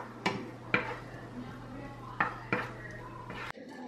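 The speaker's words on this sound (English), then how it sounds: "Use my little spoon here and stir it up." A small spoon clacks against a pot while stirring onion and garlic for a Dominican-style spaghetti, giving four or five sharp metallic knocks over a low steady hum.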